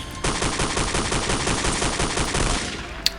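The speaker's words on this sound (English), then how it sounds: "it's very accurate, very quick to fire, and it is a machine gun type deal" The vehicle-mounted machine gun on the NC Thunderer in the game Planetside 1 fires one sustained rapid burst of loud, evenly spaced shots lasting about three seconds.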